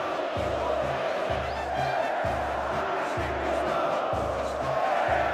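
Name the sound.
Grêmio fans chanting and cheering in the stadium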